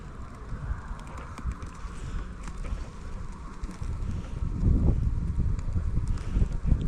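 Wind blows across an outdoor spring beehive site, a steady low rumble of gusts on the microphone that grows louder toward the end.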